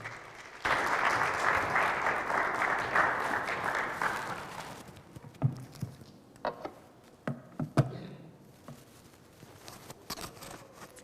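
A church congregation welcomes a pastor with strong, loud applause that bursts in and holds for about four seconds, then thins into scattered claps and taps before a voice begins speaking.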